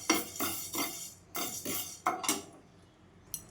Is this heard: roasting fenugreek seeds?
yes